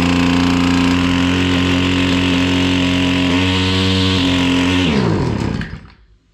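Husqvarna 553 RBX brush cutter engine running steadily at high revs, a loud buzzing two-stroke whine that shifts pitch slightly and then winds down to silence at the end.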